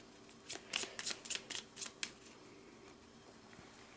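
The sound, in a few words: drawing cards from a deck in the Machina Arcana board game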